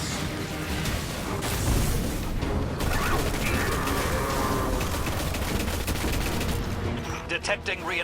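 Weapon fire in a combat video game, a dense run of rapid gunshots and bursts that stays loud and continuous, with a few separate sharper shots near the end.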